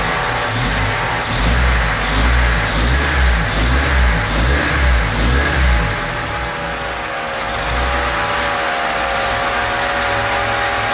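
A tuned Honda Civic engine revs loudly and smoothly, rising and falling in a few bursts, then drops back to a steady, slightly uneven idle.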